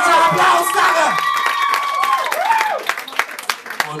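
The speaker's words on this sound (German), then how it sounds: "Fetter Applaus, danke!" Small club crowd at a live rock gig cheering and clapping for the drummer being introduced, a loud burst of whoops that thins into scattered claps and shouts.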